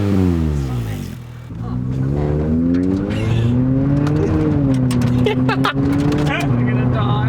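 Car engine fitted with a 3D printed muffler revs up and holds a strong, droning harmonic tone, loud and close, with brief dips and people talking over it.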